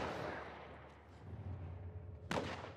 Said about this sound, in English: I shot him in the head twice.